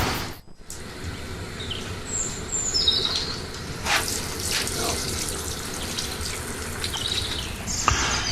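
Tap water runs steadily into a kitchen sink while fish is rinsed under it, a continuous close splashing hiss with a few brief high chirps and clinks.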